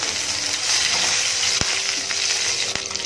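Chopped green chilies and black cumin stirred in a hot pan for a semolina breakfast dish, a continuous close sizzle with a couple of sharp utensil taps against the pan.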